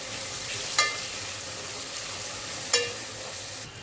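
Cumin seeds frying in a pan for chicken biryani, a continuous even sizzle up close with two sharp clinks of a spoon against the pan.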